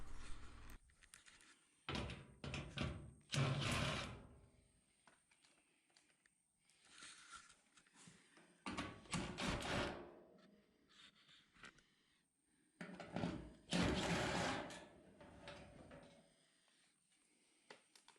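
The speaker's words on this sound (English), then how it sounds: "I'm going to remove the back panel." Back panel coming off a lint-clogged, fire-damaged clothes dryer in a garage: several bursts of clattering, scraping metal handling and panel knocks separated by quieter pauses, fairly close.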